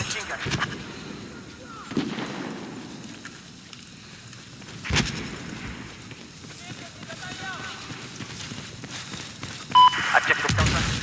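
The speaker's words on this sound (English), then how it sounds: "Appears to be a hostile machine gun." Machine gun fire in Battlefield 4 on the Pearl Market map, with sharp scattered gunshot bursts over a low rumbling battle backdrop and radio-style voices talking throughout.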